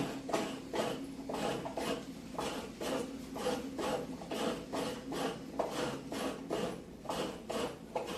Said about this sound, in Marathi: खोबरा किसून घेताला हो